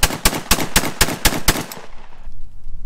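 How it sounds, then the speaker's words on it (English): A Saiga 12 gauge semi-automatic shotgun fires seven loud, close shots of cheap ammunition from an extended magazine in a fast, even rhythm, followed by a short quiet tail. "Let's see how it feeds regular old junk ammo and another extended magazine."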